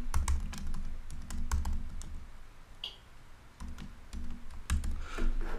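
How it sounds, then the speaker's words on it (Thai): Typing an email address on a computer keyboard: crisp, close key clicks in quick irregular bursts with brief pauses, including a few heavier thumping keystrokes, with no talking. "ให้เราใส่อีเมลครับผมผมจะใส่อีเมลเข้าไป"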